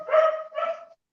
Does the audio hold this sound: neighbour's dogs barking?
yes